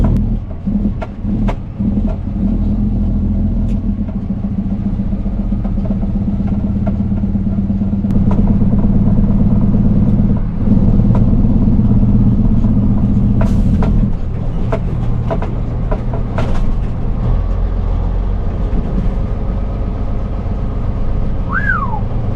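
A truck engine drones loudly and steadily as it pulls out of dirt, with a low rumble throughout, knocks and creaks from the body, and a short squeal near the end.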